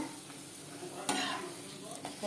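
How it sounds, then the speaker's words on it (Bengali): Luchi frying in hot oil in a home kitchen, a steady close sizzle that swells briefly as the pieces are stirred and turned. "লুচি ভাজা আরম্ভ করে দিয়েছি"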